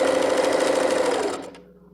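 A sewing machine stitches a small fabric bag in a fast, steady whir for over a second, then slows and stops with a couple of faint clicks at the end.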